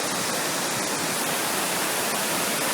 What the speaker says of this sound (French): Vous regardez et vous écoutez la rivière juive.